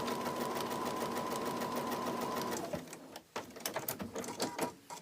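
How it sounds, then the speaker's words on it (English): A sewing machine stitching fabric for a quilted gift runs in a steady, fast mechanical whir for a few seconds, then stops, leaving scattered clicks and handling noises. "if I'm not straight onto my machine, then I kind of sew it at a bit of a funny angle"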